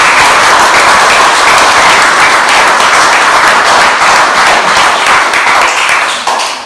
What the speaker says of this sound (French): qu'on les applaudisse chaleureusement